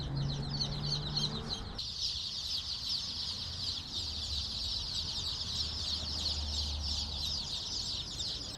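Young chicks in a brooder chirp and cluck continuously in a dense, high-pitched chorus, close by and steady throughout, with a low background hum.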